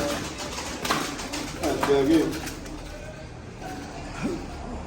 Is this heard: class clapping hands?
no